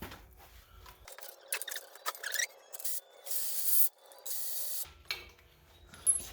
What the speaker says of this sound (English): Alright, so let's get my 15mm socket here. And we will take these off.